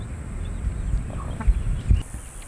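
A Welsummer rooster clucking softly in short low bursts on a farm, close by under a faint steady background hum.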